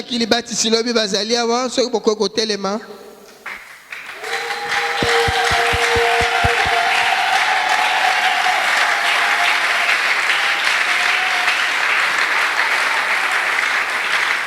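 A church congregation breaks into sustained, loud applause and cheering after a stretch of singing or talk, joined by a brief run of rhythmic taps, then continues as a steady dense wash to the end.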